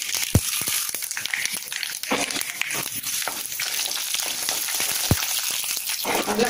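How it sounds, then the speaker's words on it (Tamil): Mustard seeds and chana dal frying in ghee in a hot pan give a dense, steady sizzle sprinkled with sharp pops and crackles of bursting seeds, close and continuous throughout. "கடுகு லேசாக வெடிச்சது கடலைப்பருப்பு."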